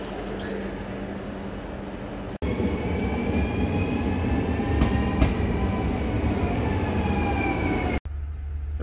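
A Dutch train heading to Utrecht rolls steadily along the rails with a continuous rumble, faint squeals rising above it, briefly cut off twice.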